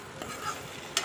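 Small cut potatoes and vegetables cooking in a pan over a low flame: a brief, close hiss of frying with a spoon stirring through it.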